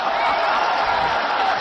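A live audience at a Chinese comedy sketch cheers and claps in a brief, steady wash of crowd noise, fairly loud and even throughout.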